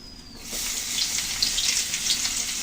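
Onions dropped into hot oil in a pan for a Bengali hilsa fish mash, a sudden steady sizzle starting after a brief quiet moment and continuing with crackling pops, close and fairly loud.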